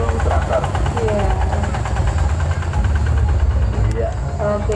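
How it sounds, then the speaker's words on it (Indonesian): Tractor engine running steadily in a carnival parade in Galur, Kulonprogo, a continuous low rumble with loud crowd chatter and voices mixed throughout. "Wah, ini traktor."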